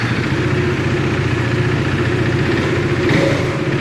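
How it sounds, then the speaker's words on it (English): KTM RC 390 motorcycle running close by, a loud, steady low exhaust burble at idle that swells slightly near the end, with no talking over it. "we will now make you hear both the exhaust notes on both these bikes"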